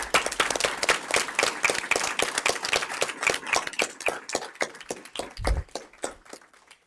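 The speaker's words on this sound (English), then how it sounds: "So can we just give all of our PTA folks another round of applause?" An audience at a school board meeting claps for the PTA volunteers, a dense burst of applause that thins out toward the end.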